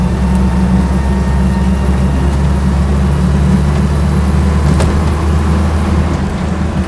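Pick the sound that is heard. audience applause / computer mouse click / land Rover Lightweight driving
land Rover Lightweight driving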